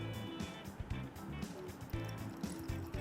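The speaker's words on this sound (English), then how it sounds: "And we'll pour all these ingredients over the milk." Cocktail ingredients including lime juice are poured over milk in a container, giving a soft, continuous liquid trickle and splash that stays faint and close throughout, with no talk.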